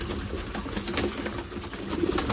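Pigeons cooing inside a loft of high-flyer pigeons being set up for breeding, soft repeated coos amid rustling and shuffling, fairly close, with no talk.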